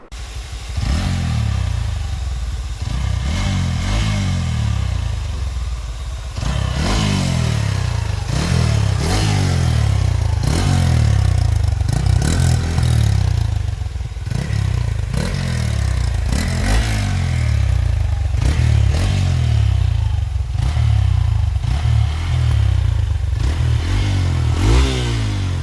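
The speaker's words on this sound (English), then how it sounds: "we will just check out the exhaust note in the video." A Hero Xpulse 200 motorcycle with a stage 2 dual port modified stock exhaust revs repeatedly, each throttle blip rising and falling in a steady rhythm, loud and close with no talk.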